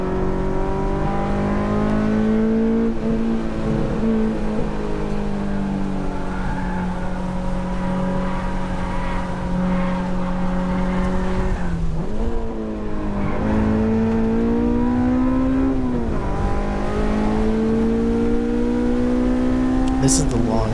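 Car driven fast along the longest straight of a race track at around 100, engine droning loudly and steadily with rising revs and shifts, tires and wind noise throughout; someone talks over it.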